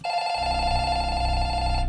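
A telephone rings inside a Roblox game, a steady electronic trilling bell that starts abruptly and carries on unbroken, loud and close, with no talking over it.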